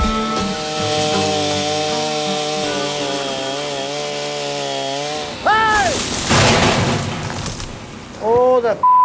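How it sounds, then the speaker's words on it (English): A chainsaw cuts wood while a tree is felled, a loud, close, steady buzzing drone that holds and shifts pitch, then cuts out as crashing and thuds follow, with people shouting nearby. "Don't put your arm over the top of that chainsaw"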